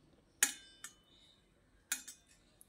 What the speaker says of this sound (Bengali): ভর্তাটা প্লেটের মধ্যে দিয়ে এবার এই খুন্তির সাহায্যে একটু এরকম সমান করে দিচ্ছি।